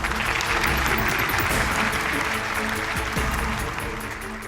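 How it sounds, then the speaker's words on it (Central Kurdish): An audience at a university quiz event in Erbil claps continuously to welcome a student. The dense applause tapers slightly toward the end. "بە چەپڵەیەک پێشوازی بکەین لە عومەر"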